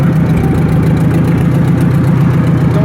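An old tractor engine runs in high range with a steady, throbbing low rumble and regular rapid pulses, loud and close, continuing without a break.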